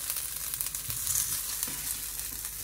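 Mushrooms and onions sizzle steadily in a pot, a continuous close frying crackle with a few faint stirring clinks and no voices.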